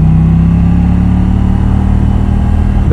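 A KTM 790 Duke's 798cc parallel-twin engine runs loud and close with a steady, throbbing mid-range drone, holding revs throughout before a brief rise at the very end.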